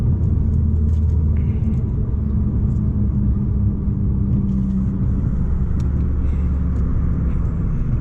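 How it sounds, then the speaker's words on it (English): Chrysler Crossfire SRT6 track car droning steadily from inside the cabin while driving, a loud continuous low engine and road rumble with no talk over it. "This car does drone pretty loud"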